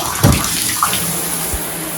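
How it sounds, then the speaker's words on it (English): Water streams steadily from a Canopy showerhead into a bathtub, a continuous hiss and splash with a few small knocks, close by. "Absolutely no interruption with the water flow or strings all the way from the shower head down to the tub."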